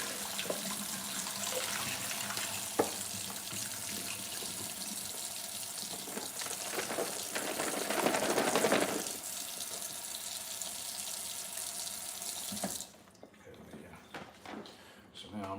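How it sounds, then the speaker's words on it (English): Tap water runs steadily into a kitchen sink while mushrooms are washed, a continuous close splashing rush that swells briefly, then cuts off, with a person talking over it. "Now mushrooms are washed"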